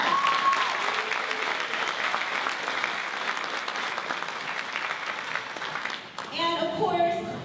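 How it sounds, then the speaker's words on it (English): An audience at a school National Honor Society program claps in a dense, steady wash of applause for several seconds, then a voice begins speaking as the clapping trails off. "so let's give them a round of applause."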